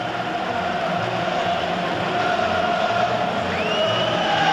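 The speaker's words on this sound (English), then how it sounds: "there's a crowd that is, I think, very satisfied" Large football stadium crowd at a 1997/98 UEFA Cup match between Atlético Madrid and Leicester City, a loud continuous roar of cheering voices filling the whole stretch, with a rising whistle-like tone near the end.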